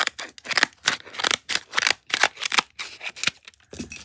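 Scissors cutting through the packaging of a mystery dumpling squishy toy, a steady run of about a dozen quick, crisp snips close to the microphone.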